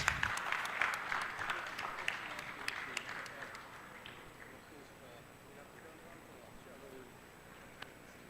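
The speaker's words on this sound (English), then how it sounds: "Let's have a round of applause." Audience applause for panelists at a military literature festival in Chandigarh, a dense burst of clapping that fades over a few seconds, with a voice talking over it.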